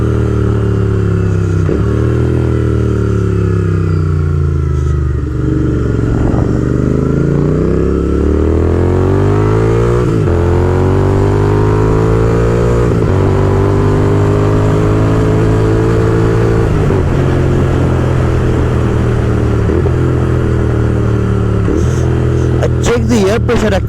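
A motorcycle engine runs loud and close throughout, revving up and down through gear changes while riding, with a rattly clatter near the end.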